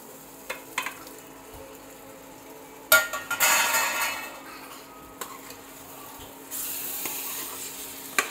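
Mutton pieces drop into a thick gravy frying in hot oil. Two loud bursts of sizzling rise and fade, with light clinks and scraping of a utensil against the pan and no talking.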